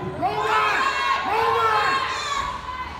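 A crowd at a rodeo roping event at a world finals cheers and shouts in two rising swells, loud and close, fading toward the end.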